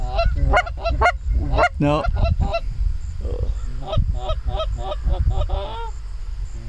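Geese honk in a series of loud, close, overlapping calls during an early-season goose hunt in New York, with a short spoken word among them.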